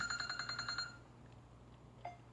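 A phone rings with a quiet electronic ringtone, a rapid pulsing trill repeating for about a second, then stops; a single short beep follows a moment later.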